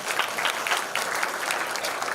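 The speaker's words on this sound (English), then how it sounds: "So, again give them a big round of applause." Renewed burst of clapping from a hall audience at a pharmacy school induction program, a dense, steady wash of hands that holds loud for the entire moment.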